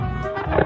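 A tiger in a 3D animal slide game gives a single short, loud roar, close up, with a music bed underneath.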